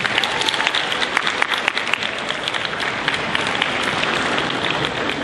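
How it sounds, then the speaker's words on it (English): An audience at an 8th grade celebration gives a sustained round of applause, dense and loud with many hands clapping steadily and evenly for several seconds with no talk over it. "Give them a round of applause, please."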